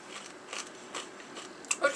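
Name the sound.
biting into a hard, crunchy compressed rice snack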